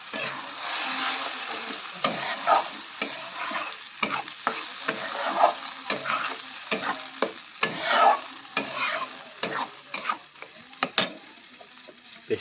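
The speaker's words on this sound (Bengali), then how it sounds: "পেস্টটা কিন্তু আমি ভালো করে কষিয়ে নেব।" Spice paste for a fish curry frying in a pan while being stirred, with continuous sizzling and frequent rhythmic scrapes and clatters of the spoon across the pan, close and fairly loud, no voices.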